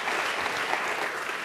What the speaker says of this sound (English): So, ladies and gentlemen, a big round of applause for the final speaker of the day, Aaron Gustafson.